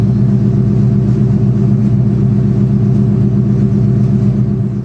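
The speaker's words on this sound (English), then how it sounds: "nothing sounds like a Mustang, especially a 99 Cobra with Bassani exhaust" A deep, loud V8 exhaust on a 1999 Ford Mustang Cobra with Bassani exhaust rumbles steadily at close range, holding a constant throaty drone for the whole stretch.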